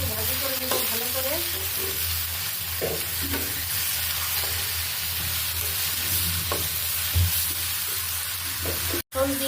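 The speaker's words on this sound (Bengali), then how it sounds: "এটাকে নেড়ে আমি শাকটাকে একটু ভাজি করে নেব ভালো করে।" Jute leaves with salt and turmeric stir-fried in a pan, a steady close sizzle with repeated scraping strokes of a spatula, no talking.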